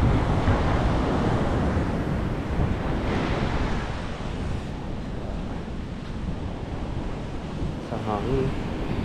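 Strong wind roars steadily into the microphone outdoors, a loud, continuous broadband rush with slight surges, and a voice briefly audible under it near the end.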